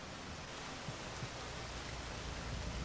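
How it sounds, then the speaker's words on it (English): Steady rain falls in the video game Rain World, a dense, even wash of hiss across the whole clip with a few soft low thumps, and no voices. "Why does it have to be raining?"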